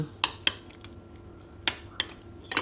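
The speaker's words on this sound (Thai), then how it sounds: "คลุกเคล้าส่วนผสมให้ เข้าเนื้อกัน" A utensil clinks against a bowl several times at an uneven pace while mixing onion and tomato pizza sauce, sharp close taps over a soft mixing background.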